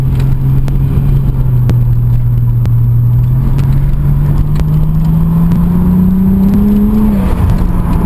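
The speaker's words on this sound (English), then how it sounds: "And she's backfiring." A Toyota Supra running low boost revs up with a loud, rising engine drone and a few faint pops and crackles of backfire near the end.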